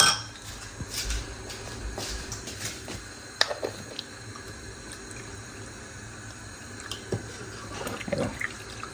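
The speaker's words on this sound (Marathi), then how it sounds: "अजून मी ॲड करते पाणी." Plain water runs and splashes into a bowl while pani puri water is being prepared in a kitchen, with clinks of dishes and utensils scattered throughout and no talking.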